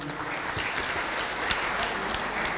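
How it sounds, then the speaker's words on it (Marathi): Steady, dense applause from an audience at an invited bhajan singing competition in Degwe, honouring a bhajan group from Hirawade; the clapping holds at an even, fairly loud level throughout with a few sharper claps near the end, and no voices above it. "ह्या भजन मंडळासाठी एकदा उत्स्फूर्त टाळ्यांचा प्रतिसाद होऊन देत."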